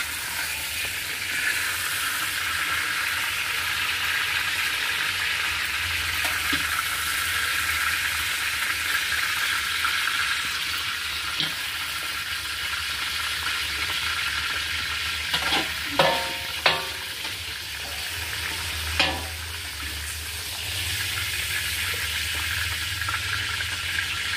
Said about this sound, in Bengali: বরবটিটাও আমার ভাজা হয়ে গেছে।